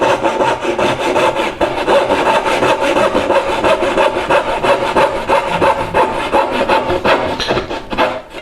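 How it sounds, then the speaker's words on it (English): Hand saw cutting dovetails in pine held in a wide vise, a loud, steady rasping back-and-forth stroke repeating rhythmically up close for several seconds, with no talking. "I'm cutting the dovetails on the bottom right now"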